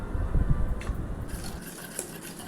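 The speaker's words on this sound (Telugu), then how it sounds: "కొంచెం వాటర్ వేసి బాగా మిక్స్ చేయండి" Water pours into a bowl of curd mixed with salt, chili powder and a pinch of turmeric, a close gurgling splash for about a second and a half that then settles into quieter liquid sounds.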